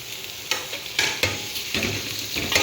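Onion being stirred in a nehari pot, a medium onion cooking in oil with a steady crackling sizzle and a few sharp scrapes of the spoon against the pot, close and alone with no voices.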